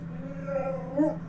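A pet dog indoors whimpers after seeing another dog outside, a thin whine held steady and then rising, close by, over a low hum in the room.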